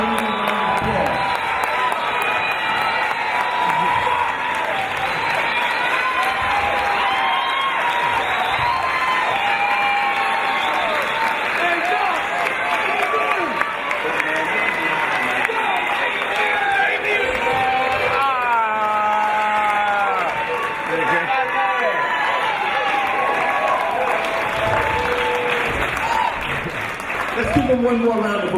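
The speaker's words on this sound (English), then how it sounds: "So give him a round of applause." A lecture audience in Brooklyn claps and cheers for Dr. Sebi in sustained, dense applause with whoops and shouts, loud and close, carrying on for nearly half a minute while voices call out over it.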